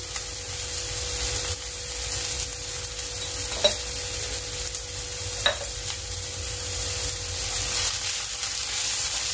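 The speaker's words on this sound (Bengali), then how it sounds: "এগুলো ভাজা হয়ে গিয়েছে" Chopped tomato, green chilli and capsicum with salt fry in a pan with a steady, even sizzle, broken by a couple of sharp clicks of a spoon against the pan, no voices.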